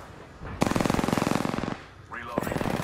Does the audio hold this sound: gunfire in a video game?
yes